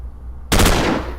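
A burst of automatic rifle fire in the Stellar Tactics video game starts abruptly after a moment of low hum and runs loud and rapid to the end.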